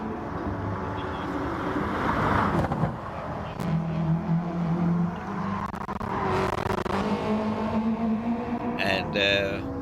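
Race car at a PRO-AM Championship round, driven by Viren Boteju running four wheels off track, with a droning engine and tire noise under steady commentary.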